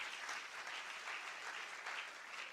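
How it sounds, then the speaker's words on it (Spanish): A church congregation applauds for Inginia, a steady, dense round of clapping that fills the whole moment without any voices. "Un aplauso al Señor por Inginia."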